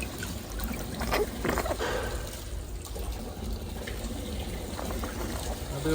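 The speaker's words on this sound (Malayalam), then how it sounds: "എല്ലാം കഴിഞ്ഞ് വെള്ളം നിറഞ്ഞ് എന്നിട്ട് രണ്ട് ഇതിലോട്ട് വീണുകൊണ്ടിരിക്കുകയാണ്" A budget fish tank filter returns water that falls steadily back into the tank. It makes a continuous, close, moderately loud trickle and splash with no talking.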